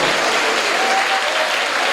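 Applause and cheering fill a church service, a dense, steady wash of clapping from a large congregation, close and loud throughout with no gaps.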